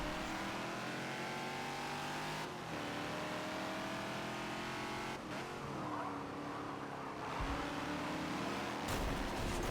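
A Ford Falcon XB is raced around Hockenheim in the Forza video game, its engine revving up and down through gear changes with rising whines, sharp shifts and brief tire scrubbing, loud and continuous.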